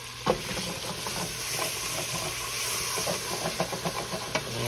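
Garlic fries in a soup pot, giving a continuous close hiss and sizzle, with a few louder scrapes and stirring knocks scattered throughout and no speech.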